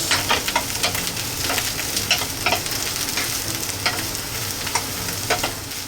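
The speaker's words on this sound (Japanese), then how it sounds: "ナスはね、油との相性もいいんで、香りをつけつつ軽く火を通します。" Eggplant frying in oil with fragrant garlic in a pan, a steady close sizzle with scattered crackles and spatter pops throughout, no voices.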